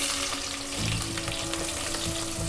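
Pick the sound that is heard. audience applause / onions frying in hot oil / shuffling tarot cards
onions frying in hot oil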